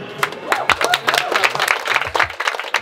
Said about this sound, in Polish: Wielki brawa tutaj właścicielom.